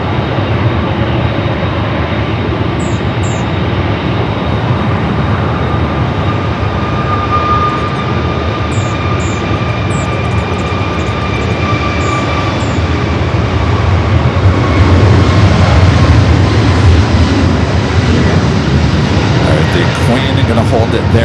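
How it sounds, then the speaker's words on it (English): A JetBlue Airbus A321 jet taxiing at Los Angeles airport, a steady loud whining engine drone continuing throughout with a slight swell near the end, under a person talking. "JetBlue flight coming up from JFK, flight 523, the A321."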